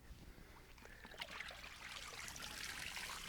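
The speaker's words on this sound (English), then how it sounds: "take the hide and let it drain out a little bit" Water trickles and drips from a soaked deer hide as it is lifted to drain during buckskin tanning, a steady close dribble with a few splashy spots and no talk.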